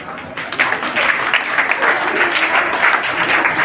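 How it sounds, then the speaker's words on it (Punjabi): A crowd at a village birthday program for a social worker in Punjab applauds in a sustained, dense wash of clapping, loud and close, with faint voices mixed in. "ਤਾਲੀਆਂ ਵਜਾਈ ਚਲੋ"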